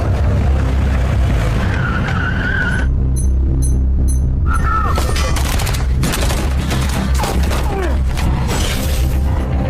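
A car skids loudly through a tense movie action scene as a bomb is driven away from a stadium, with tire screeches and crashing impacts over a dense, roaring soundtrack, broken by a brief near-silent gap of high beeps.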